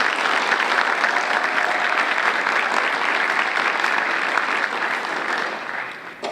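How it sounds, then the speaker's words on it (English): Banquet audience at a Hall of Fame dinner applauding sponsors, dense sustained clapping from many hands that holds evenly for several seconds and fades slightly at the end. "Let's please give them all a round of applause."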